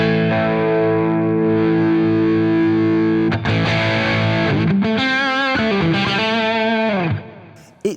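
Electric guitar through a Mesa Boogie Electra Dyne amp with heavy gain, sustained distorted chords ringing loud and continuous, then shifting to bent, wavering notes before cutting off near the end.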